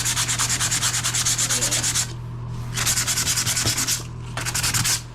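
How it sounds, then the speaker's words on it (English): Cracks in a bathtub are sanded by hand, a loud, rapid rasping rub in three bursts separated by short pauses, close up and with no talking. "We got that sanded."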